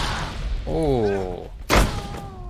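Grenade explosion in Arma 3: a sharp thud-like blast lands late in the moment, following a voice speaking over game ambience.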